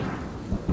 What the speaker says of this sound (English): The storm that swept through Brisbane, concentrating itself on Woolloongabba and on the cricket ground